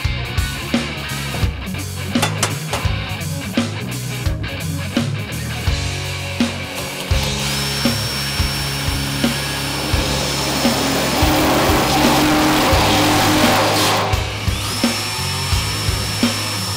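A power drill bores holes into a metal deer feeder bin, whining in repeated bursts that build to a longer sustained run, close and loud with no talking.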